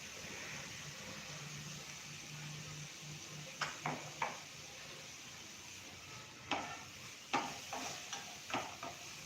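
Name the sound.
garlic, onion, ginger and chilli paste sautéing in a pan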